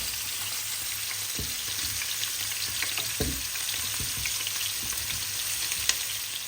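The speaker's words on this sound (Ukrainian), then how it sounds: "поки наша цибулька там притомлюється і рибка жариться" Onion and fish fry in heated oil, a steady close sizzle running throughout with a few scraping clinks and soft knocks from a utensil in the pan.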